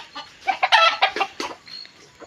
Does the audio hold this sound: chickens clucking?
yes